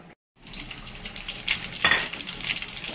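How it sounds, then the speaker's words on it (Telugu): Mustard seeds and cumin crackle and sizzle in hot oil with a steady frying hiss and sharp little pops, close and loud, with no talking. "ఆయిల్ మొత్తం వేడి ఎక్కినాయి. ఇలా ఆవాలు జీలకర్ర వేసిండు"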